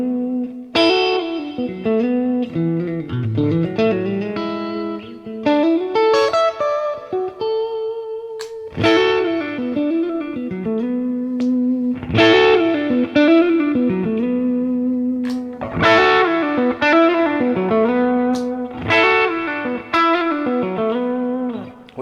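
Charvel Pro Mod DK24 electric guitar played with a bright, thin faux single-coil tone, picked notes and chords ringing out with some effects and light distortion, no talking.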